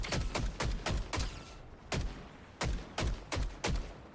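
Gunfire in the Fortnite video game rings out in quick bursts, about a dozen sharp close shots in uneven clusters with a brief pause midway, loud and clear with no talk over them.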